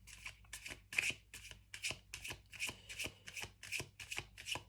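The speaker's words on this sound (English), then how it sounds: "let me pull another card for the Knight of Swords" Tarot cards shuffled and drawn, a steady series of about a dozen quiet, rhythmic riffling bursts close by, with no voices.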